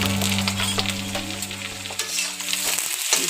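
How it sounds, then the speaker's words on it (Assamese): Onions frying in a pan for a duck curry give a close, steady crackling sizzle with stirring scrapes, under a low continuous hum from the cooking area and no voices. "পিঁয়াজ দি ল'লোঁ"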